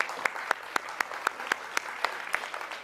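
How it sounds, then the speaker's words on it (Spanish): Sparse applause for panelists at an anti-corruption contracting forum: roughly a dozen separate, fairly evenly spaced claps from a small group, mid-distance and moderately loud, with no one talking over them. "Un aplauso para nuestros panelistas."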